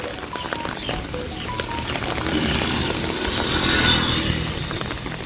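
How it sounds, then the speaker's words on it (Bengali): Heavy rain pours down over Arambagh under a darkened sky, a steady hiss of falling water. Scattered knocks and a passing engine-like rumble sound through it. "এখনও কিন্তু বৃষ্টি যথেষ্ট ভালোই পড়ছে"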